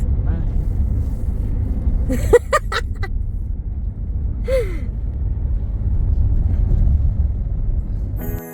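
A car drives along a forest road, heard as a steady low engine rumble and road noise from inside the vehicle, with a few brief breathy voice sounds partway through.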